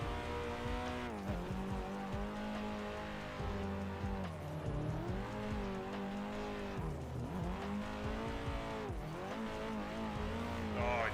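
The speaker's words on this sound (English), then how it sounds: "Just got caught in the rumble strip." A race car in Assetto Corsa runs at high revs with steady engine drone and shifting pitch, rattling briefly over a rumble strip, with tyre noise and no speech.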